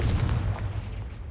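A Confringo fire-blast spell explodes in Hogwarts Legacy, a short muffled boom with a rumbling low-end tail that fades out over about a second, fairly quiet overall.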